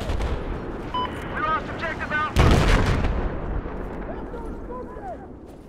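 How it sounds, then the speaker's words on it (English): Gunfire aimed at a helicopter in Battlefield 4: scattered distant shots and a sharp heavy blast midway that trails off into rumbling battlefield noise. "I'm just shooting at the heli there"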